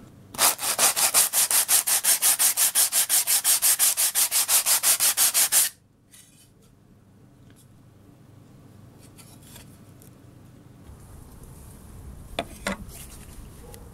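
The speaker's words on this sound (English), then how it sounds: "Remove the tabs with a sanding block." A sanding block is rubbed rapidly back and forth over CNC v-carved wood to remove tabs, giving about five seconds of loud, even rasping strokes, then a quiet stretch of faint handling noises.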